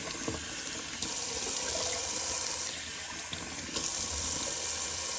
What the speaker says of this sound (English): Turn it over to some nice, really cold water.